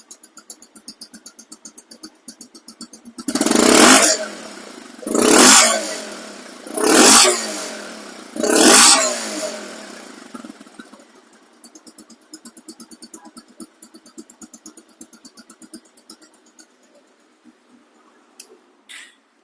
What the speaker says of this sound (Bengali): জিরো কিলো চলার বাইকের যেমন সাউন্ড হুবাহু অবিকল